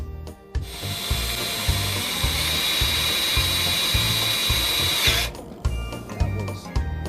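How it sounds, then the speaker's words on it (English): A power drill bores into a Jeep hardtop with a steady high whine that runs for about five seconds, broken up by repeated low thumps and knocks. It cuts off abruptly, leaving a few lighter handling clatters near the mic. "I think what we're going to have to do is drill into the hardtop and get the wire through."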